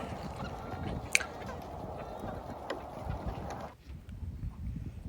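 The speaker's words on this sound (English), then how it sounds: "So we have around 300 chickens." Around 300 country chickens on a backyard homestead farm fill the air with a continuous dense clucking and fowl chatter, with occasional sharper calls standing out over steady outdoor background noise.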